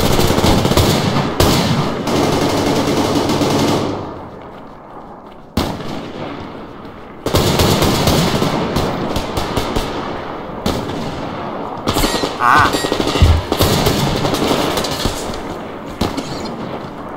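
AK assault rifle fire in Survarium pounds out in long, loud, sustained automatic bursts, pausing briefly before resuming in heavy rapid volleys with echoing tails.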